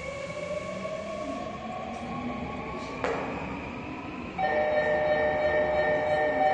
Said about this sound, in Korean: 급행 하나 지나가고